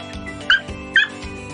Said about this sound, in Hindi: सैमी को पता चल गया खाने का सामान बन रहा है, तो सैमी भौंक रहा है।